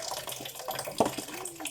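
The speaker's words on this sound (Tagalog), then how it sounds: "hugasan lang natin ng tubig" Tap water runs over leafy vegetables being washed, a steady close splashing trickle with a brief louder splash near the middle.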